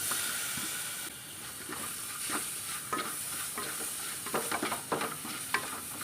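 Tomatoes tossed into a pan of frying spices for a Kerala irachi chor, with a steady close sizzle and hiss beneath scattered scraping stirs that turn denser and louder toward the end.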